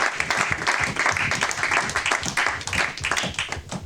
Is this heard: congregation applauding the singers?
yes